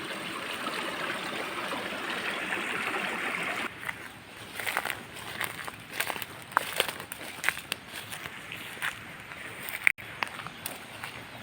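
A river in Bukidnon, Philippines, rushes steadily as someone wades across it, the smooth flowing wash giving way to choppier splashes, sloshing steps and brief knocks, close by and fairly loud.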